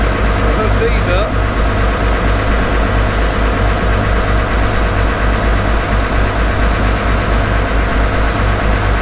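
A tractor engine idles close by, a steady, loud, low mechanical thrum with a regular knocking pulse, running on alone for several seconds during snow-pushing work in Virginia.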